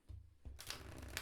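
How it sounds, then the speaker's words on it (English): A thin, durable tarot deck is riffle shuffled near the microphone: a soft tap, then a quick continuous fluttering rush of cards that ends in a light snap. "Let me show you the riffle shuffle."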